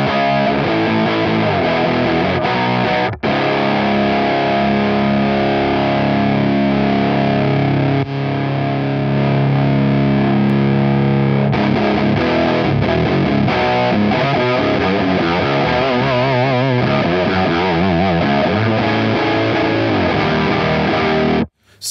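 A heavily distorted electric guitar through a Walrus Audio Iron Horse V2 distortion pedal into a V40 amp plays thick, sustained chords and riffs, loud and saturated throughout with no pauses.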